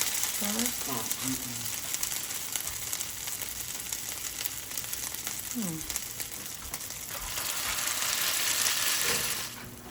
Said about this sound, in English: Now we're frying this on the temperature about 3.